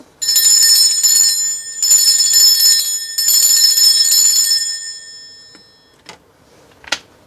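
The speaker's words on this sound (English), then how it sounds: "I'm going to be ringing this bell just to cleanse the space around us" A bell rings in three long bursts of rapid metallic ringing, loud and close, then fades out, followed by two short faint knocks near the end; nobody speaks.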